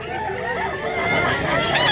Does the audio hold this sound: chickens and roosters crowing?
yes